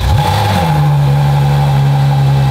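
A V12 LaFerrari engine in a McLaren P1 GTR-style car revs briefly from idle, then settles into a loud, steady drone close by.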